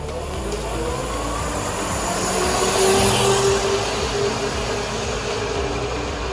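Venom E-Matix electric ATV accelerating hard with no governor or speed restriction, a steady close motor whine rising slightly in pitch and loudness over several seconds above broad rumble and wind noise, with no voices.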